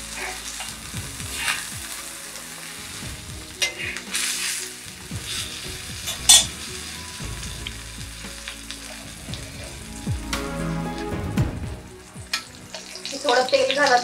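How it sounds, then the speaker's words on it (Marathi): Halwa (pomfret) fish, Koli style, frying in hot oil in a pan on its second side after flipping: a steady close sizzle with spatula scrapes and light clatter, a sharp clink midway and busier crackling near the end, no voices. "आता आपण याला दुसऱ्या साइडून पण शिजवून घेऊया।"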